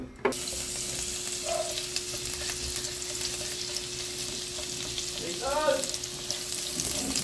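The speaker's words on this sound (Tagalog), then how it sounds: "Kasi, magigisa na kami ng bawang sibuyas." Garlic and onion sauté in hot oil for a chopsuey, giving a steady close sizzle and crackle throughout, with a brief scraping stir near the start and another stirring clatter toward the end.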